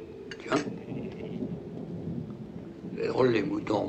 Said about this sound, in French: C'est peut-être l'orage qui les affole.